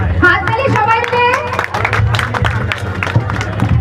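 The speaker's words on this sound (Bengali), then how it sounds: "হাততালি সবাই মিলে।" A crowd at the Cooch Behar Ras Mela claps together in a steady, dense patter, loud and close, with voices and cheering mixed in throughout.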